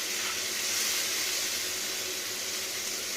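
Onions frying in oil in a pan, a steady dense sizzling hiss that holds evenly at close range without pause.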